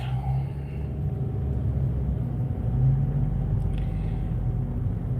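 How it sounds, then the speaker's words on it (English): Steady car engine and road rumble heard from inside a vehicle moving through thick traffic on a drive home, a continuous low drone with no talk. "And as you can tell, the traffic's getting quite thick."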